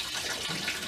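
Coolant being dumped out of a GMC/Chevy 5.3 truck with a bad thermostat, a steady pouring gush of liquid splashing for about a second, close and alone.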